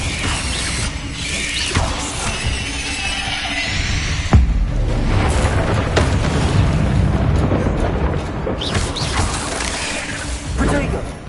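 Bombarda spell blasts in Hogwarts Legacy combat on PS5, sharp booming impacts near 4.4 s and around 6 s amid a dense, continuous rumble of spell effects and crashing debris.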